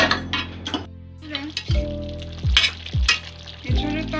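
Jackfruit curry cooking in a pot over a medium-low flame, heard as sizzling and bubbling with several sharp metal clinks and scrapes of a spoon against the pot at intervals, close and fairly loud, no voices.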